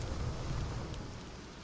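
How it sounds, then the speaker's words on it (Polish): Rain in the survival video game The Forest pours down as a steady hiss with a low rumble beneath, fairly faint and unbroken for the short stretch. "A, deszcz pada i zamokło."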